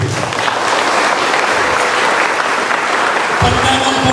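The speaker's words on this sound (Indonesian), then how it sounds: "Tepuk tangan dulu." An audience applauds at an inauguration ceremony for a student organization's 2025-2026 term, with loud, sustained clapping filling the room and a few voices mixed in.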